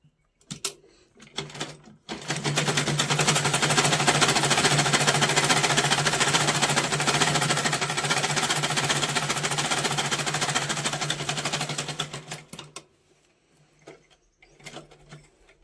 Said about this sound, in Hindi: एक बार फिर से इस पे सिलाई मार लेंगे ना।